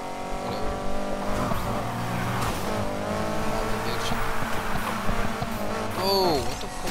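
A Mitsubishi Evo engine in the racing game Need for Speed Heat roars loudly and steadily with shifting revs and a brief tire squeal near the end, while someone talks over it.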